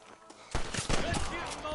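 Gunfire in the Western video game Red Dead Redemption: after a quiet start, a burst of loud overlapping shots and a thudding volley erupt together, with a dense crackling firefight continuing beneath in-game voices.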